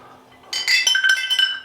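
A metal stir bar drops into a glass flask, giving a bright ringing clink followed by a few quick rattling bounces that fade out.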